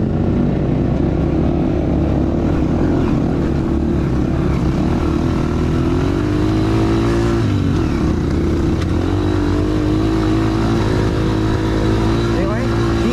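A motorcycle grinds uphill in first gear on a jungle expedition during tropical storm season, its engine a loud, steady, labored drone that holds throughout with no pauses.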